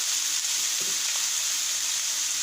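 Rice stirred in a hot pan with salmon and creamy butter sauce cooking nearby, giving a steady, close sizzle with a faint scrape of the spoon partway through.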